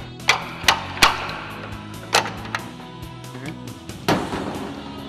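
A gearbox being pried off the drum housing of a JLG Liftpod, with sharp metallic knocks and clanks at irregular intervals over a quiet background.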